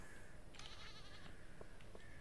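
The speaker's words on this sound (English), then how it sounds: "We got a sheep." A sheep bleating in the Stardew Valley farming video game, a couple of short faint bleats over a steady background hiss of game music and ambience.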